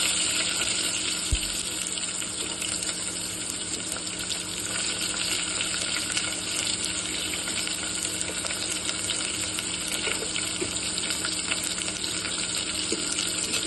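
Onions frying in hot oil after mustard seeds have popped, giving a steady, dense sizzle that continues unbroken and close throughout, with no talking.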